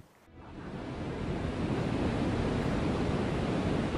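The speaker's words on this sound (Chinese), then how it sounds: "海边风大浪急" Strong wind and rough waves roll in at the seashore by a fishing village, rising quickly from quiet into a loud, continuous roar of surf and gusting wind that holds steady.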